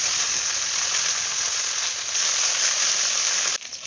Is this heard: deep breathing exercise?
no